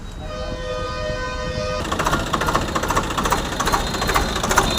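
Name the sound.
Swaraj 744XT tractor engine starting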